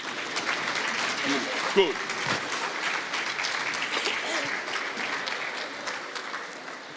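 An audience at an oral history conference applauds continuously, a dense even clapping with a brief louder bump, while a voice speaks over it.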